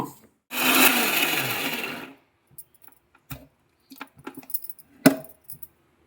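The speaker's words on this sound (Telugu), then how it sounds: "మసాలా కొట్టుకుందాం మిక్సీ." A mixer grinder whirs loudly for about two seconds grinding spices, seeds, turmeric, salt and tamarind, then stops, followed by scattered clicks and knocks of the jar being handled.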